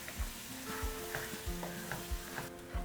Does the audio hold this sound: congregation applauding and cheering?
no